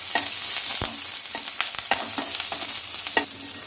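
Curry leaves and onions sizzle steadily in hot oil in a pan while a spoon stirs them, giving repeated scraping clicks over the continuous frying hiss.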